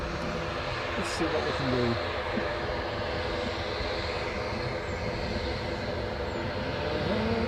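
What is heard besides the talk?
Aer Lingus ATR 72 turboprop airliner engines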